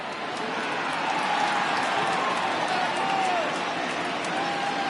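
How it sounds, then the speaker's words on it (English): A baseball crowd at a Cubs–Giants game rises on a full count, a loud, steady roar with scattered clapping under continuous commentary. "Crowd gets up for the 3-2."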